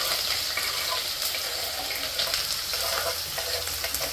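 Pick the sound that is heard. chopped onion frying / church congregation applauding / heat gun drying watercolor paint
chopped onion frying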